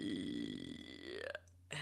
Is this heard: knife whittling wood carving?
no